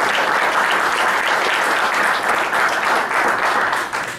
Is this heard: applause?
yes